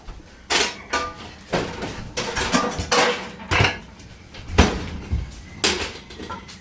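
Dishes and pans are washed in a kitchen sink, with a string of loud, sharp clatters and clanks of crockery and metal coming in irregular bursts, close by, with no voices.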